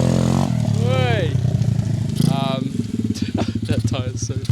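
A motorcycle with a freshly tuned carburettor idles with a steady low rumble, while people talk and whoop loudly over it.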